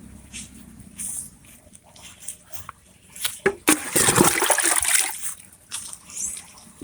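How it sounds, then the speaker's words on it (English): Water from a bucket pours onto shallow tubs of potted plants, a short quiet trickle and scattered drips giving way to a loud rushing splash lasting about two seconds, then tapering off into dripping. "so I had to make sure I drench it."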